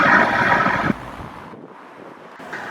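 Steady rushing wind buffets the microphone, loud at first, then easing to a softer breathy roar before gusting up again near the end.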